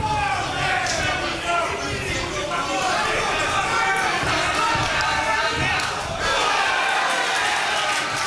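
Crowd roaring and cheering at a live MMA bout, a broad dense swell of voices that stays loud and steady throughout, with a commentator talking over it.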